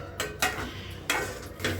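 Masala for prawns ghee roast being stirred in a frying pan, four distinct scraping strokes of a spatula against the pan, close and sharp, over a faint low hiss.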